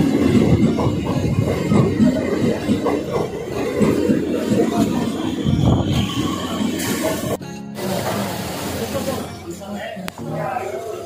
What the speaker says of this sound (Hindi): और ये हमारी ट्रेन आ चुकी है